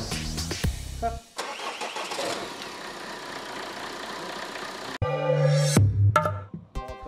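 A car engine is started with an ignition key during a Renault training session, cranking briefly and then catching into a loud, rough idle, with a pause and a second burst of engine noise near the end.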